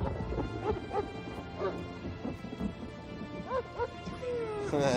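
A dog barks and yips in short bursts within a busy Elder Scrolls Online game soundscape, with a voice speaking over the noise.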